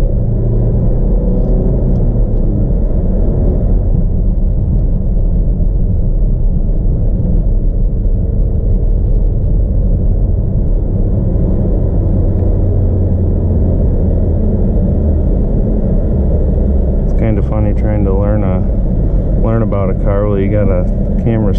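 A 2017 Chevrolet Camaro with the 2.0 turbo engine and a manual clutch cruises along. A steady low engine and road drone fills the cabin while people talk over it.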